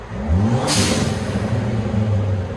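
A Ford Fiesta ST with a Thermal R&D cat-back exhaust revs briefly, a short muffled rise and fall of engine note with a sharp hissy burst early on, fairly subdued and close.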